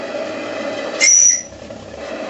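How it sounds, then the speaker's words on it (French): A short, shrill steam whistle on a live steam model boat blows once for about half a second, loud and close over a steady background hiss and hum, no voices. "le sifflet sifflette"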